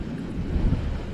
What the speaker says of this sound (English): Boy, that wind has got everything blowing sideways.